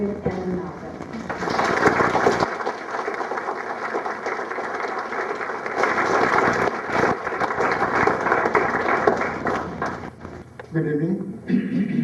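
A concert audience breaks into sustained, dense applause to welcome performers Ingrid and Reynaldo. It swells and holds for several seconds, dips briefly, then continues before fading as a voice speaks near the end.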